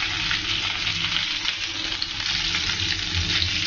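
Pizza cutlets frying in hot oil, a steady close crackle and bubbling sizzle with no pauses and no talking.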